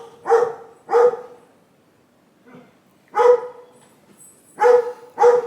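A dog barks in Guadeloupe, five loud, close barks in pairs and singles separated by short silences.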